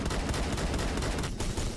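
Rapid automatic gunfire in the Phantom Forces video game, a dense, continuous loud burst of shots that barely pauses, with no talking.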